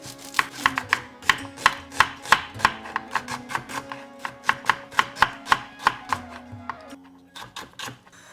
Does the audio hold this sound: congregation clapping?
no